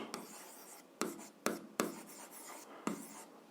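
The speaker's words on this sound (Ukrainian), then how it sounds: "Х дорівнює 2, а y дорівнює мінус 1. Пишемо того." A pen writing an algebra equation by hand on paper, with scratchy strokes and several sharp taps as marks are started, close and quiet with no talk.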